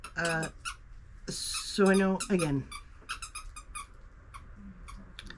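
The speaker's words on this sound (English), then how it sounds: "please excuse the squeaking." A dog chewing a squeaky toy indoors, producing sharp high squeaks in quick irregular bursts, some loud and close, heard between and under someone talking.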